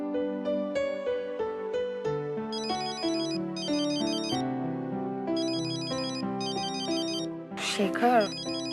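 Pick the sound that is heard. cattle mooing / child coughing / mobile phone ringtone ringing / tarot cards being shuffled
mobile phone ringtone ringing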